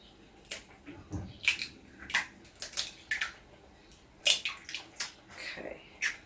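Four eggs cracked one after another into a bowl of heavy cream and half-and-half for challah French toast custard, giving several short wet splats and squishy drops, fairly close and isolated.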